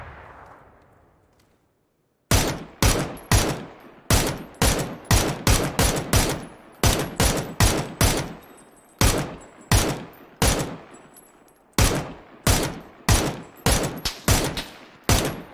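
A PUBG video game player fires a rifle on the Taego map. Loud single shots ring out alone in an uneven rhythm, about two per second, after a quiet opening of a couple of seconds, and each crack trails off in a short echo.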